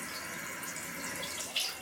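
Hot water running from a tap during a bathroom renovation, a steady soft rushing stream with a slight splashy rise near the end, fairly quiet.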